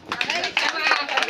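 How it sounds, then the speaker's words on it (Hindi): An audience at a panchayat award ceremony gives a brief burst of clapping, a few sharp claps mixed with people talking nearby. "भाई थोड़ा ताली मारो।"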